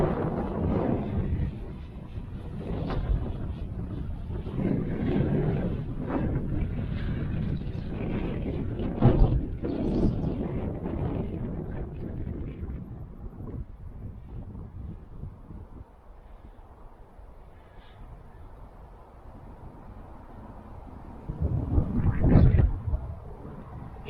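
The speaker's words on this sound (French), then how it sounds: "J'ai beaucoup trop de vent en fait. Ça va s'entendre dans la caméra." Strong gusty wind buffeting the microphone of a Potensic Atom drone camera flying at height, a steady low rumble with louder bursts and a brief lull before another gust.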